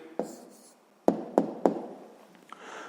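A pen writing out an answer by hand for a sixth-grade math exercise, heard as a few sharp taps and short scratching strokes on paper, close and quiet with pauses between.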